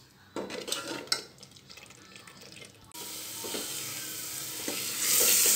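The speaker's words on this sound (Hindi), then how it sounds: "तो देखिए ये सारे मसाले भुन रहे हैं" Spice masala for rajma roasts in hot oil, with steady sizzling and crackling. A spoon scrapes and clinks against the pan in bursts, and the frying grows louder and hissier toward the end.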